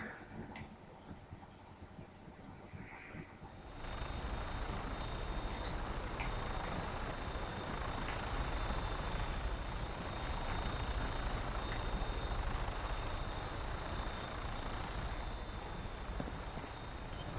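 Helicopter-style aircraft from the Fallout 4 video game, a steady engine and rotor drone that swells up loud after a quieter opening and holds continuously to the end.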